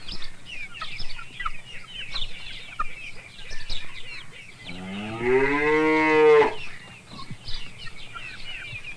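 A single long, loud cow moo rises out of a busy farmyard background of chickens and other fowl clucking and calling.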